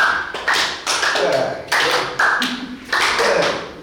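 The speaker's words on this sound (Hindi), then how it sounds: "ऊपर ताली और नीचे ऊपर ताली नीचे ऊपर ताली नीचे" Rhythmic hand clapping in a group yoga workshop, sharp claps repeating in a steady pattern about every half second to second, close and loud, with a little voice underneath.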